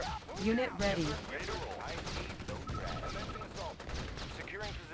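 Bursts of gunfire and explosive battle noise from the real-time strategy game Red Alert 2, running steadily under excited talk, with some in-game voice lines.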